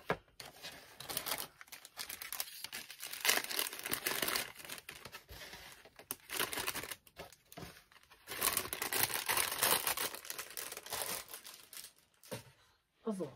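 A plastic bag holding a dahlia being opened during a shopping broadcast, loud crinkling and rustling in irregular bursts that come and go, close to the microphone, with brief pauses between handling.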